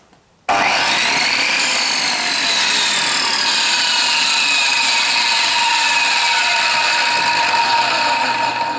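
An Erbauer ETC1650 1650 W electric tile saw switches on with a sudden start and then runs steadily, a loud, close, continuous motor whine with a high blade hum and no cutting or speech.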